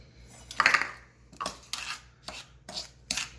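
Sugar and flour for a coconut cream pie being stirred together in a bowl, a few separate scraping, rubbing strokes with short pauses between them, close and fairly quiet.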